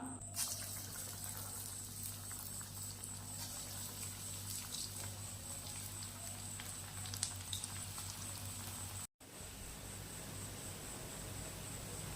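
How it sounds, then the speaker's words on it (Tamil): Green gram pakoda batter deep-fries in hot oil with a steady, even sizzle that runs on without a break, fairly faint and close. "எண்ணெய் நல்லா சூடான உடனே சிம்மில் வச்சுக்கலாம் இப்போ கலந்து வச்சுருக்க மாவில் கொஞ்சம் கொஞ்சமாக எடுத்து பகோடை போட்டுக்கலாம்"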